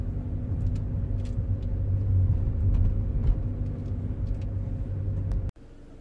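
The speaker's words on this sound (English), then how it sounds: "problem is fixed, car is driving absolutely spot on" Volkswagen Passat driving after an ABS/ESP fault repair, heard from inside as a steady low engine and road rumble with faint ticks, cutting off abruptly near the end.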